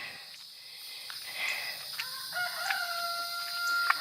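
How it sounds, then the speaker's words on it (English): A mother hen with her chicks on a rain-soaked yard after a storm, soft clucks and faint peeping over a background of birdsong, fairly distant and gentle. "Over here's Mama and her chicks."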